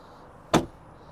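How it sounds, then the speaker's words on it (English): A single solid thunk as the rear doors of a 2017 MINI Cooper S Clubman shut, close and brief, with a quiet background before and after. "So when you close these doors,"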